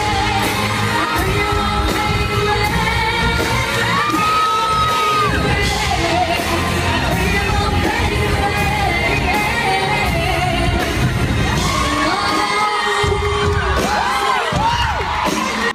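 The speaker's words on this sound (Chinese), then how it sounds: "台下瞬间欢呼声一片" A concert crowd cheers and yells loudly right after a fan sings on stage, a dense continuous roar of voices with whoops and shouts over music, sustained throughout.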